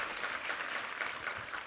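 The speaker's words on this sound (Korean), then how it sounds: "우리 위정민 지휘자와 우리 성가대에게 한번 힘찬 격려의 박수 부탁합니다" Congregation at a Sunday church service applauding the choir and its new conductor, a steady wash of clapping, fairly soft and continuous throughout.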